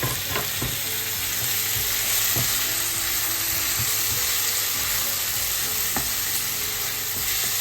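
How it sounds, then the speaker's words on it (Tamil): Chopped tomatoes go into chicken masala frying in a pan, setting off a steady loud sizzle with a few stirring clinks and scrapes throughout. "அடுத்து டொமேட்டோஸ் வந்து ஆட் பண்ணுறேன்."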